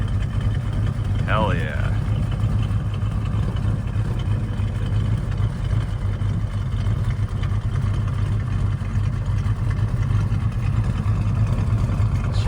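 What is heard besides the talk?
1971 Dodge Super Bee engine idling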